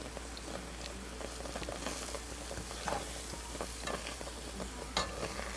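Cranberry sauce foams and fizzes in a pot as baking soda neutralizes its acid, a soft bubbling crackle with scattered pops and occasional stirring clicks over a low steady hum.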